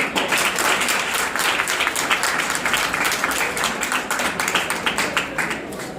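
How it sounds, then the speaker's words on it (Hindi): An audience at a motivational event claps for a teaching team with dense, continuous applause, many hands beating together at an even, full level throughout. "आप सब इस टीम के लिए ताली बजाएं"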